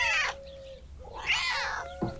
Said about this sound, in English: the white kitten, cried out and crafted a dramatic meow while yawning